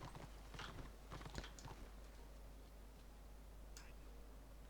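Horse hooves in the video game Warhammer Online clip-clop in a quick uneven patter over a steady hum, fading to sparse taps, with a single click near the end.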